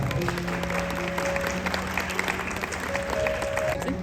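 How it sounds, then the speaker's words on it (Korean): Guests applaud at a wedding ceremony after the ring exchange, a steady, moderately loud clapping from the crowd with faint tones and a voice or two mixed underneath. "여러분 큰 박수 부탁드립니다"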